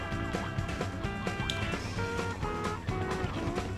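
Gobbling calls from the ugly chickens in the Nintendo 64 game Earthworm Jim 3D, set over a dense, continuous game soundtrack with repeated bird-like squawks.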